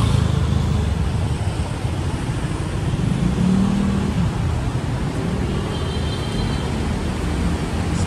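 Road traffic in Bangkok, a continuous low rumble of engines and tyres with a passing vehicle swelling briefly midway, steady and moderately loud.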